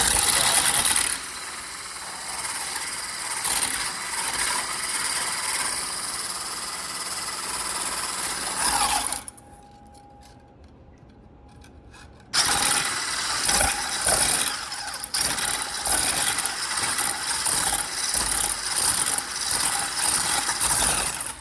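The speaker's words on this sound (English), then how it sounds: "And then I'm just gonna turn on the beater and start to beat the egg whites." An electric hand mixer beats egg whites for waffle batter, whirring loudly and steadily up close with a rattling, gear-like texture, cutting out briefly midway before starting up again.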